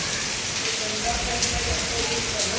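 Light morning rain falls in a steady, gentle drizzle, with a constant soft patter of drops on surfaces nearby.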